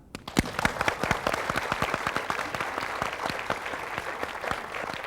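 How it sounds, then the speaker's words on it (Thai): Applause from a studio audience on a Thai variety TV show, a dense burst of many hands clapping that stays steady and fairly loud for about five seconds with no talking. "ทั้งสองคนวันนี้เราขอปรบมือให้ครับ"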